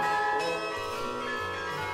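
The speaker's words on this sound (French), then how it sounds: "Et toutes les cloches des églises sonnèrent d'elles-mêmes" Church bells ring with a rich, sustained metallic tone, their overlapping peals swelling and fading for two seconds, loud and unaccompanied by speech.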